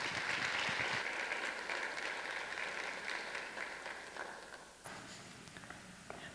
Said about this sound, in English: give her a round of applause to welcome her to speak before us tonight